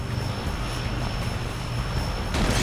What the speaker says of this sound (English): Some kind of airplane. Try to reach the plane before it takes off.